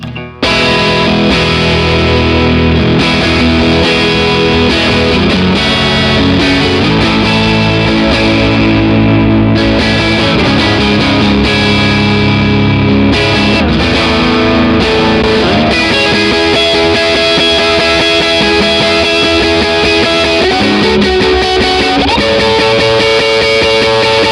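Heavily distorted electric guitar chords played through effects pedals chug continuously and loud, thick and saturated with effects, alone without any voice.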